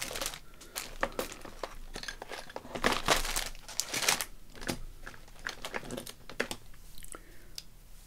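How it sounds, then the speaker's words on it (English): A scalpel blade scrapes and peels a sticker from the back end of a crafted item, giving close, irregular crinkling and scratching bursts of varying loudness with no voices. "Let's see if I can get the sticker off the back end. Maybe a scalpel is the order of the day."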